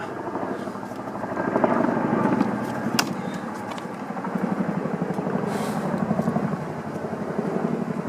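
Small gas engine on a log splitter idling after a carburetor replacement, a steady close, chugging putter with a fast even pulse and one brief sharp click midway.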